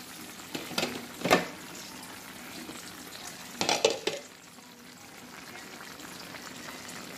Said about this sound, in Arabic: كيفاش تحرك الطبق باش ما يتلصقش